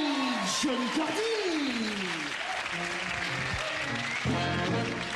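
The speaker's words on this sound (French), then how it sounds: "On applaudit Johnny Cordy." Audience applause for a performer on a French comedy show, steady clapping throughout with voices and whoops mixed in over the crowd noise.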